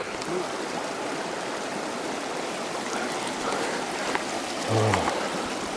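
A river flows below a slope in a Carpathian beech forest, a steady broad rushing wash heard from a distance, with a faint low thud near the end.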